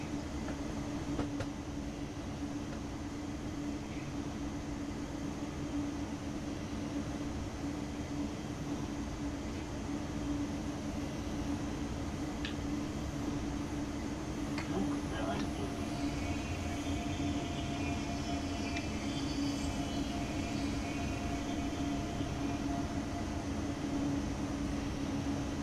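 An ICE 3 BR 403 high-speed train arriving at a platform in Train Sim World 4 on the Munich to Augsburg route, with a steady low rumble and hum and a few faint metallic squeals and clicks, and no talk.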